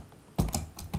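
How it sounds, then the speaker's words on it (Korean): A few keystrokes on a computer keyboard, close but fairly soft, with a short burst of clicks after a brief quiet moment. "여기서 다시 타이핑을 해줍니다"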